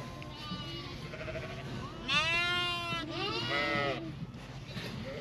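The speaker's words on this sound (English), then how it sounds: "All the friendly sheep want to come say hi." Sheep bleating at a farm during lambing season in Canada, several wavering calls overlapping up close, loudest midway, over steady barn background noise with some talk nearby.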